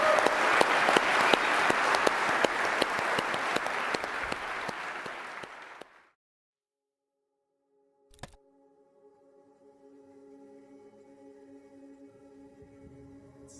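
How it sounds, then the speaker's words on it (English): Loud, sustained audience applause at a technology conference keynote, dense steady clapping that fades out after several seconds into silence, followed by a faint electronic tone and a low hum. "I want to really thank them at the back and give them a round of applause"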